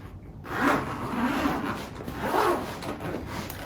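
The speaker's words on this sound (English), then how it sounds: "Let's unzip the case" A zippered carry case is unzipped, two drawn-out rasping zip pulls, close and fairly soft, with no voices.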